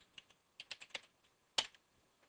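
Fingers tap on a computer keyboard in two quick clusters of keystrokes, with a sharper, louder key press near the end, close and alone in a quiet room.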